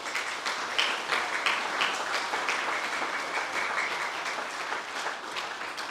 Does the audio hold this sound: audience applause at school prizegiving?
yes